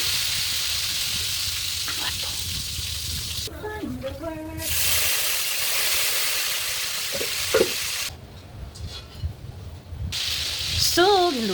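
Pork, lechon kawali style, frying in hot oil gives a loud, continuous sizzle and crackle that drops out briefly twice, with a person speaking in the pauses and over the frying.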